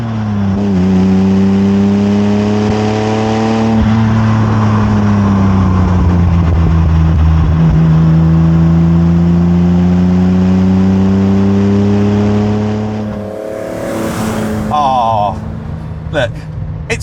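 Datsun 240Z engine revving while driving, a loud sustained drone climbing and holding through the gears with a brief drop near the end, heard from inside the car.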